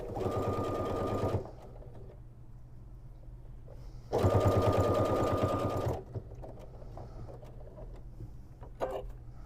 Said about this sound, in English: I am sewing at about 1/4 inch. I'm going to do a back stitch so it can stay secure